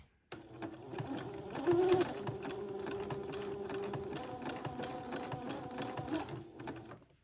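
Sewing machine zigzag stitching lace and entre-deux together, a close, steady mechanical whirring run of rapid stitches that starts abruptly, surges briefly, then holds steady before stopping, no talking.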